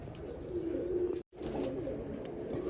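Domestic pigeons coo in low, steady rolling phrases up close, with a brief break partway through and no talking.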